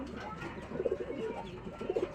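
A pigeon coos softly nearby, two short bursts of low, throaty cooing.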